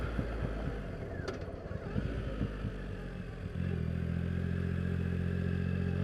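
A 2016 Triumph Rocket III Roadster motorcycle is ridden on the road. Its engine keeps up a steady, close rumble under wind buffeting, then settles into a louder, even drone partway through.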